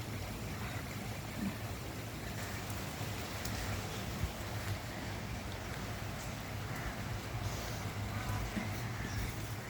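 Steady rain falls evenly as a soft, constant hiss with occasional faint drips, quiet and unbroken throughout.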